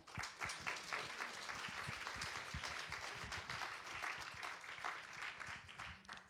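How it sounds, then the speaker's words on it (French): An audience at a presentation on the representation of women in tech gives a group of presenters sustained applause, a dense, even roar of many hands clapping for several seconds, heard from within the room. "Normalement, voilà, on peut les applaudir."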